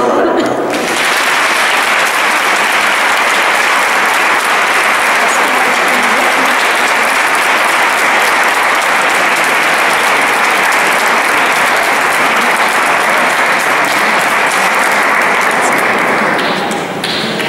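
Sustained applause from a congregation fills a church at a farewell mass for the Hermanas of Cristo Crucificado in Baños de la Encina, loud and steady for most of the span before tapering off at the end.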